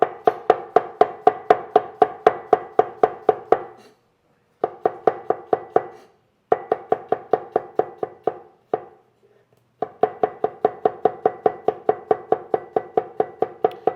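Knife slicing two garlic cloves thin on a cutting board, a fast steady run of crisp close chops in several bursts separated by short pauses.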